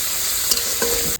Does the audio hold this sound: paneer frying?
yes